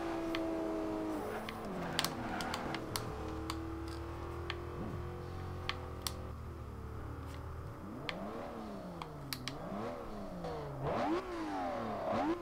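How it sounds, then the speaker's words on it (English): Lamborghini Murcielago LP 670-4 SV from 2010 in Forza Horizon 2 revving hard toward redline, with engine tones climbing and shifting repeatedly under a steady roar, plus small ticking clicks scattered throughout. "let's go ahead and redline the hell out of this car"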